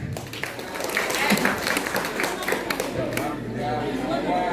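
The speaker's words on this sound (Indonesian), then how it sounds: "Tepuk tangan." An audience at a Balinese bondres comic performance in Karangasem applauds. Dense, steady clapping mixes with crowd murmur and voices throughout.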